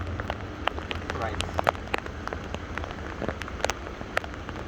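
Steady rain patters on a river, with scattered close droplet splashes and ticks over a soft continuous wash.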